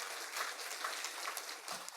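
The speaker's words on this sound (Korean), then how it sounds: "우리 하나님께 영광의 박수 한번 올려드리겠습니다." A church congregation claps together, a steady dense wash of hand claps with no pause, moderately loud and filling the room.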